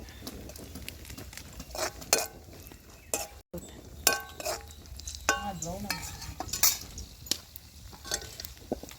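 Raisins and cashews frying in ghee for a broken wheat payasam, with crackling sizzle, a spoon stirring and clinking against the pan in irregular bursts, close by, and no talk.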